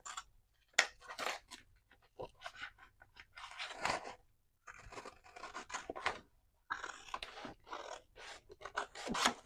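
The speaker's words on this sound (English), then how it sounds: "we're just going to use the envelope itself as our guide as to where to cut it." Scissors snip and rasp through a paper envelope while shaping a junk journal pocket, a close series of irregular crunchy cuts and paper rustles with short pauses between strokes.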